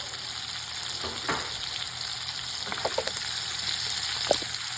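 Chorizo frying in a pan with peppers for a Cuban-style red bean soup: a steady, close hiss of sizzling fat, broken by a few light clicks and stirring taps.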